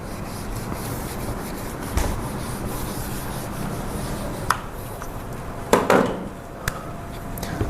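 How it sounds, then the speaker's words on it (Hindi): Written working is rubbed out, a steady scratchy rubbing that carries on throughout, broken by a few light knocks and taps, close by with no talk. "मैं रब कर रहा हूँ"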